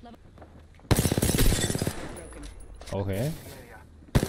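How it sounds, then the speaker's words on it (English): A video-game AK rifle fires a rapid burst of sharp, closely spaced shots that cuts off abruptly, followed by a short spoken exchange and then another loud shot at the very end. "My man going in with the AK."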